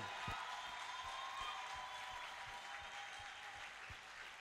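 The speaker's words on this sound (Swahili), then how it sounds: "Est-ce que les quatrièmes peuvent acclamer très très fortement le Shiba Seigneur?" A church congregation applauds in praise of Jesus, a steady faint patter of many hands clapping with a few stronger claps standing out.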